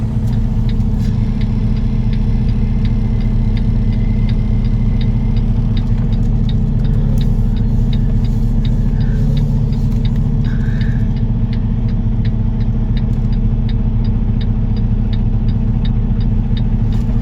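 A semi truck engine rumbles loud and steady while backing under a trailer, a constant low drone with a faint regular ticking over it and no voices.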